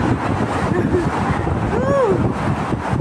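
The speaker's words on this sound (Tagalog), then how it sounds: "Ay! Malakas na hangin." Heavy, continuous wind noise blasting the microphone outdoors, with a brief voice rising over the roar.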